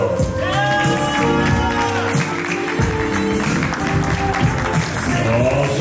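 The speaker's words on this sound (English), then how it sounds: "Ladies and gentlemen, continue to applause" Audience applause and cheering for a dance couple at a pro open rhythm ballroom competition, continuous clapping from a crowd under music and an announcer's voice.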